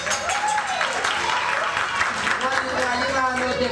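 A live concert audience at Sesc Madureira applauds a singer, giving a steady wash of clapping throughout while music and a voice carry on over it.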